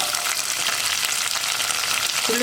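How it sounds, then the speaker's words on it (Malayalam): A handful of curry leaves and lengthwise-sliced onion hitting hot coconut oil for Kerala kadala curry, giving a loud, steady, close crackling sizzle that runs without a break. "ഇപ്പോൾ നമ്മുടെ വെളിച്ചെണ്ണ ചൂടായി തുടങ്ങുന്നുണ്ട്. നമുക്കിതിലേക്ക് ആദ്യം ഒരു പിടി ഇതുപോലെ കയ്യിലെടുക്കുമ്പോൾ ഒരു പിടി കറിവേപ്പില ചേർക്കാം."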